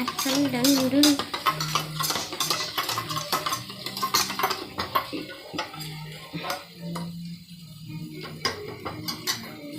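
Eggs being whisked for a bread omelette, a quick rapid clatter of utensil against a bowl running throughout at close range, with brief voices and kitchen noises mixed in.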